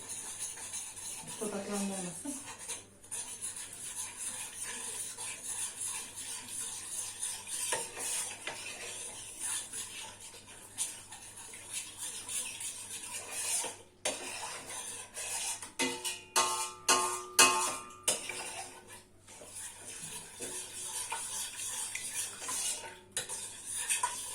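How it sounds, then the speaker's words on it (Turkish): A spoon stirs a pumpkin and milk dessert mixture in a pot, with repeated scraping and clinking of the utensil against the metal. The stirring runs steadily and gets louder and busier toward the end. "Bir, iki, burayı önce bir karıştıralım."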